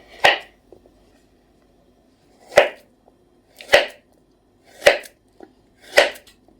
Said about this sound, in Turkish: Muzlar keselim.